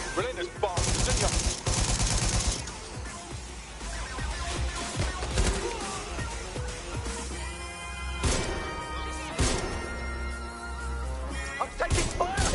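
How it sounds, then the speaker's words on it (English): Video game gunfire in Watch Dogs: Legion: loud bursts of shots and automatic fire with crashing impacts, dense and continuous across the scene, with a spoken voice heard briefly under the noise. "I'm taking fire here!"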